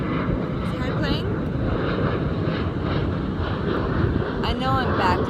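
An airplane passes overhead as a steady, loud engine drone, with a person talking over it.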